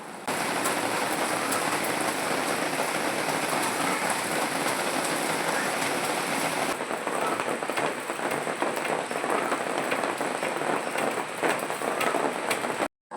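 Heavy rain pours down outside in a loud, dense, unbroken roar that lasts the whole time, easing slightly partway through before cutting off at the end.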